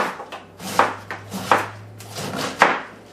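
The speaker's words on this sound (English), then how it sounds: "let me go ahead and chop up this rest of the cabbage" A knife chops cabbage on a board, with a handful of firm, fairly evenly spaced thumps and crisp cuts close by.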